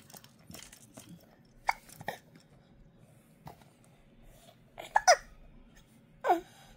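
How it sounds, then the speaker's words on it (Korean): An infant gives a few sharp, brief hiccups spaced irregularly over quiet room tone, close and soft, mixed with small mouthing and sucking noises. "딸꾹질 나와버렸어?"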